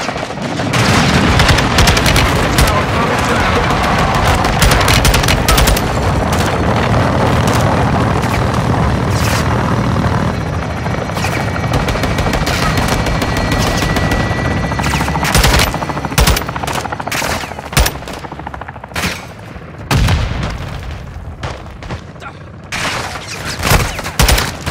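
Machine gun fire and explosions in the Call of Duty Modern Warfare 2 (2022) video game, with dense rapid bursts and booming blasts that stay loud and continuous, then break into scattered sharp reports near the end.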